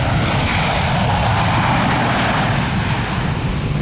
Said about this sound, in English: the plane arrived on Christmas Island